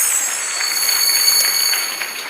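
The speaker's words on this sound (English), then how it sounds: "So please join me in giving him a resounding applause." Audience clapping at a live book launch event, a steady dense burst of applause lasting throughout, fairly loud and even with no voices over it.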